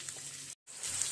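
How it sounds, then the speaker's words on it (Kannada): Sliced medium onions frying in an oil-filled kadai for aloo gobi masala, a steady bright sizzle broken by a brief silent gap before resuming louder. "ಈರುಳ್ಳಿಯನ್ನು 2-3 ನಿಮಿಷ ಚೆನ್ನಾಗಿ ಫ್ರೈ ಮಾಡಿ"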